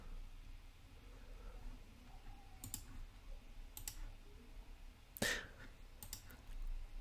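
Computer mouse clicks come in sparse, crisp pairs over a faint hum, with one louder click standing out near the end.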